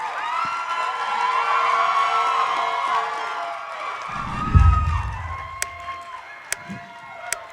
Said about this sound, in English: Please give me a huge round of applause, everybody, for Joey Fatone and Nia Vardalos!